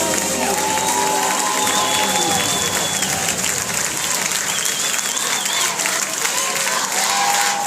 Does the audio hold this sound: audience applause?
yes